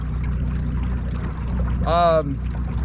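A homemade duck boat runs on water at three-quarter throttle, its battery-powered motor making a steady low hum with a wash of water, and a brief voice-like tone rises midway.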